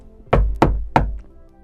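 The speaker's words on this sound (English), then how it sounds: "He knocked on the door," Three firm, evenly spaced knocks strike a wooden door close by, each a hollow thud with a short ring, followed by quiet.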